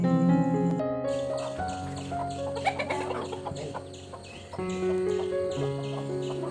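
A hen about to lay eggs in the morning clucks repeatedly in short bursts, fairly close, with birds chirping faintly in the background.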